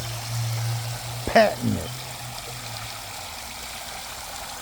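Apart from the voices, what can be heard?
water flowing from a swimming pool waterfall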